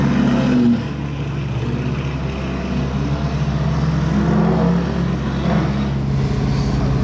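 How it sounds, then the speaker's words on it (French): A Lamborghini Urus with a loud exhaust gives a deep, heavy rumble that surges briefly, then settles into a sustained low drone, close and strong with no talk over it. "Il a l'air d'être très violent ce Urus, niveau échappement."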